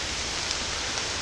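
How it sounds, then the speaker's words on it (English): Steady rain falls in southwest Michigan as an even, dense hiss with no break, moderately loud and with no voices over it. "Just kind of glad that it's raining today."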